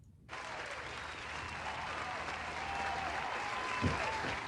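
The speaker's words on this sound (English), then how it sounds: "Please give him a round of applause." An audience bursts into sustained applause that starts abruptly and continues steadily, a dense wash of clapping from many hands.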